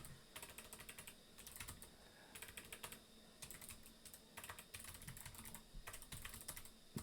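Quiet keystrokes patter on a computer keyboard in irregular bursts as a question is typed into a Blackboard discussion thread, with short pauses between clusters of keys.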